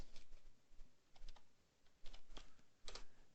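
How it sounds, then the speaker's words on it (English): Computer keyboard keys tapped in short quiet bursts of a few clicks each, separated by brief pauses, close up with a faint low hum underneath and nobody speaking. "I'm going to type in Tokyo"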